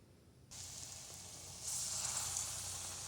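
Batter drops into hot oil in a kadhai and starts a soft hiss that swells into a steadier, brighter sizzle partway through, quiet and close with no voices.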